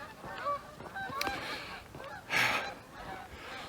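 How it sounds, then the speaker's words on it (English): A flock of geese honks while flying in overhead, repeated calls rising and falling at moderate distance, with a louder burst of honking partway through against open outdoor background. "Another group of geese coming in."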